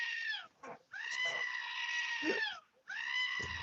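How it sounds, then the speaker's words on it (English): A screaming goat lets out long, loud, raspy cries in two main bursts, harsh and close, with a brief break between them. "is the sound of the screaming goat."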